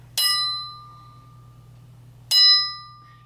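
A struck metal bar rings out twice, each strike a bright clang with long sustained overtones that slowly decay, the second strike sounding after fingers are shifted further along the bar; a low steady hum runs underneath.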